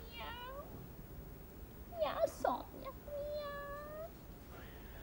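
A young child imitates a cat's meow in a Norwegian children's playroom setting, with two drawn-out, sing-song mews separated by a brief spoken word and rustling. The voice is close and fairly soft.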